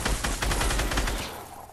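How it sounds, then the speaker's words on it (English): Rapid automatic gunfire in the Fortnite battle royale video game, a quick burst of shots that rattles for about a second, then trails off into a fading echo. "They were getting shot."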